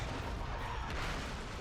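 A dense, roaring explosion in Monster Hunter World: Iceborne, a loud broadband rumble sustained throughout with no voices over it.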